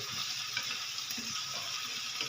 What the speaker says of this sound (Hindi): 4 से 5 मिनट के लिए इसको भूनेंगे